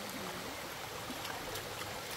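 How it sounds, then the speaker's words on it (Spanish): A natural river flows with a steady, broadband rush and gurgle of water, constant and fairly close throughout, with no voices. "para nosotros el río es hermoso porque primeramente es natural"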